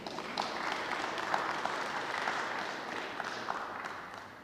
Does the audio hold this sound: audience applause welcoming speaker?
yes